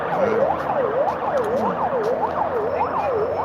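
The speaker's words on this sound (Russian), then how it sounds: "Это скорая помощь, она спешит" A loud ambulance siren wails along a street in Yakutsk, rising and falling in a regular rhythm about twice per second as it speeds past.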